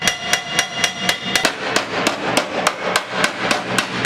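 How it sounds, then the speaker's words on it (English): Technicians hammering the metal panels of Elvis Presley's classic BMW during a restoration, sharp metallic blows struck at a steady quick rhythm of about four per second, close and loud, with no talking. "the technicians use a traditional hammering technique, followed by carefully fastening everything together with screws."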